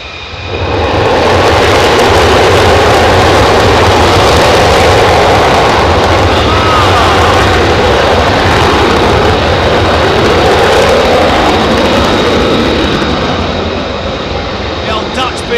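Dutch military jets take off without afterburner, a loud, sustained broadband jet roar that builds quickly and holds steady, with a voice talking over it.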